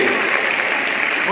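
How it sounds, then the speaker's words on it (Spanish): Brief burst of applause from a small church Bible-study audience, steady and close, with a voice faintly over it. "Un aplauso."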